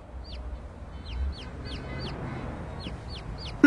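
A chicken, scolded as a useless bird in a sitcom scene, gives repeated faint, high chirping peeps over a low room hum, ending in a sudden loud knock.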